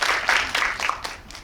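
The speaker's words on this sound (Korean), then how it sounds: "큰 박수 부탁드립니다" An audience applauds at a drama screening and talk event, a short burst of scattered clapping that starts full and thins out within about a second and a half, fairly close, with no talk over it.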